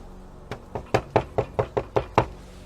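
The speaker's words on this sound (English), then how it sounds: "I'm gonna try to knock and see if anything knocks back." Eight knocks rap on a chapel door on a nighttime camping outing, spaced fairly evenly and growing firmer, sharp and close against a quiet background.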